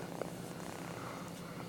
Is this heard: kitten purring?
yes